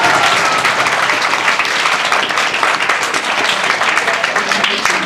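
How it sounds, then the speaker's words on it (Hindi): An audience claps loudly and steadily for several seconds, a dense, continuous wash of applause filling the room. "फिर एक बार जोरदार ताली बजाओ लोग के लिए।"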